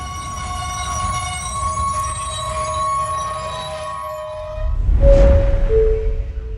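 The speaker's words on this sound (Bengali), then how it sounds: "ঢাকা থেকে ছেড়ে আসা বনলতা এক্সপ্রেস ট্রেনটি এখন রাশিয়ান হাউসের প্ল্যাটফর্মে এসে পৌঁছেছে" Banalata Express passenger train pulling into a platform at Russian House, steady rumble with sustained high wheel squeals and a loud screech at the end as it slows, no talking.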